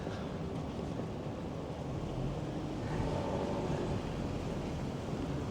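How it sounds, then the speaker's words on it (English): Outdoor wind gusts during a winter walk in Toronto's Bloor West Village, a broad low rumble of wind buffeting the microphone that swells noticeably partway through, with no voices. "As soon as I said that, the wind gusts."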